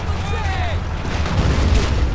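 A grenade explosion in the WWII strategy game Men of War: Assault Squad 2 gives a low, rolling boom that rumbles on, with battle noise and a faint whistling sweep above it.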